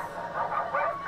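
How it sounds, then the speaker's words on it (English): Dogs bark and yip in an anime episode of Cowboy Bebop, a short burst of two or three mid-pitched barks close by, with some faint background sound. "Here come the dogs."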